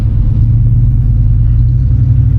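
Steady low engine rumble from a 1988 Chevrolet Silverado 1500 pickup truck under light throttle, heard from inside the cab, droning continuously and loud with no voices.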